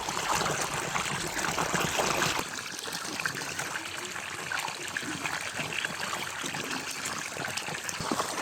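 Running water flows steadily through a farm field during a millet harvest, a constant close trickling and gushing stream that goes on without a break.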